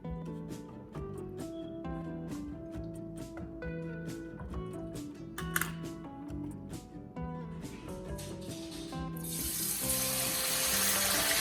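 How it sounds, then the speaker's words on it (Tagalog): Chicken pieces drop into hot cooking oil and a loud, hissing sizzle bursts up near the end, rising over soft background music that plays throughout. "And now we're ready to put our fried chicken."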